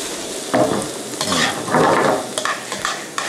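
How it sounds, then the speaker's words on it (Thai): Chopped garlic frying in oil in a pan for a Mexican-spiced linguine with ham: a steady close sizzle broken by several short scraping stirs, with no talking. "แล้วผมลงกระเทียมด้วยนี่กระเทียมเยอะนิดนึง เทียมสับ แต่กระเทียมเนี่ยลงแล้วคุณผู้ชมต้องระวังดีนะระวังมันจะไหม้"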